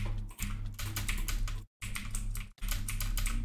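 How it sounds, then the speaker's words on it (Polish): Rapid, dense keystrokes on a computer keyboard during a gaming session, continuous clattering with two brief gaps, close and loud, with no speech. "Ale ty w klawiaturę spawicie"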